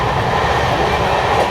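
Tebhaga Express LHB train running, a steady rushing roar of wheels and carriage noise heard from onboard, continuous and fairly loud.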